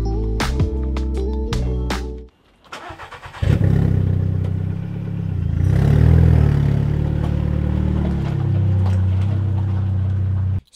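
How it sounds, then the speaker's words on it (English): A loud, rough car engine with a broken exhaust clatters and idles, cuts out briefly, then roars back with a raspy, throaty revving drone that rises and falls. "the exhaust is broken in my car, hence why I literally sound like I'm driving some sort of crazy sports car"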